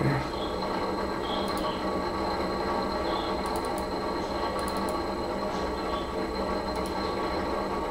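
A homebuilt 4 x 8 pipe gantry CNC machine driven by servos runs a program, giving a steady, loud mechanical whir and hum with faint ticking over it throughout.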